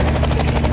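A helicopter in a video game gives a loud, dense rotor chop that throbs steadily through the whole short burst.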